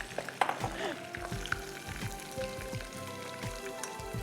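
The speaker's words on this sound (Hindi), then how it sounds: "I have to fry all this पालक।" Dry spinach (palak) fries in a pan with a steady, close sizzle and crackle, broken by small pops and light stirring scrapes.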